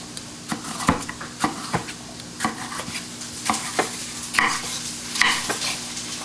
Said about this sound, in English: It's been frying for 5 minutes in high heat.